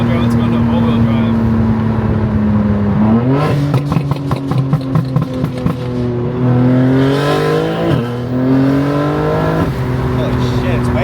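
A 900 hp 2025 BMW M4 with upgraded suspension accelerates hard in all-wheel or rear-wheel drive, its loud engine droning and rising in pitch through several gear shifts, heard from inside the car with occasional voices beneath.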